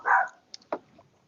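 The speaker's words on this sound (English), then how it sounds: "Y'all excuse my dog. She's at war with the cats outside." A dog barking at cats outside indoors: one sharp bark followed by a couple of short, quieter yips and huffs, close and brief.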